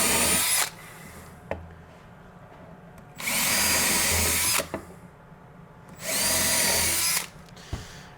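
A power drill whines in three loud bursts of about a second each, drilling into wooden kitchen cabinet drawers, separated by quieter pauses with a few clicks and knocks.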